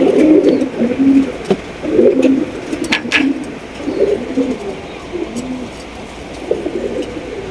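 A pair of black king pigeons coo repeatedly in soft, low, throaty bursts, close by, with light rustling and faint background noise between calls.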